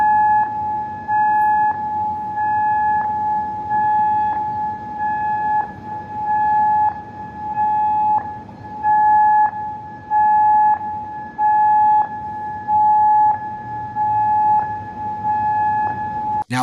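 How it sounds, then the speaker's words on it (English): Civil defense sirens wail in Kuwait, a steady sustained tone held loud and continuous for the whole span with small periodic pulses, no voices over it. "you can hear the sirens going off in Kuwait"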